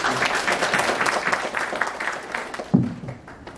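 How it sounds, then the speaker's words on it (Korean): Audience applause at a Korean security policy forum, a steady wash of many hands clapping throughout, fairly loud and continuous, tapering slightly toward the end. "다시 다 같이 한번 박수를 한번"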